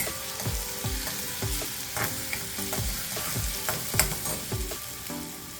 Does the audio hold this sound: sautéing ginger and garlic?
yes